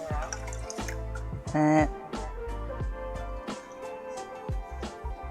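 Water dripping from a wet knitted placemat, a steady run of soft drips and trickles against a faint background hum.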